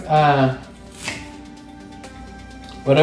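Kitchen knife slicing a red onion on a board: a couple of soft, isolated cuts in a quiet gap, with someone talking just before and after.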